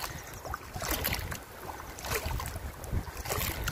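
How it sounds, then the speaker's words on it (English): Wind blows steadily outdoors at a dry Arizona gold-prospecting site, a broad rushing hiss with low rumbling buffets against the microphone and no voices. "the wind just picked up"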